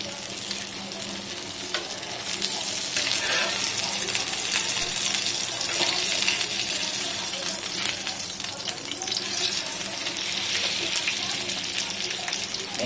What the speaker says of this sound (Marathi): 4-5 मिनिटं दोन्ही बाजूनी फ्राय करून घ्यायचं